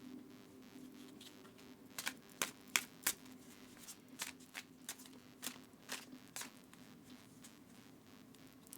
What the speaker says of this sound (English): give the deck a good shuffle for you